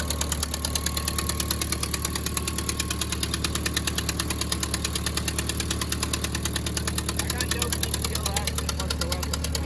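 A Ford tractor engine runs steadily with the PTO engaged, giving a close, continuous mechanical drone with a rapid, even pulsing throb throughout.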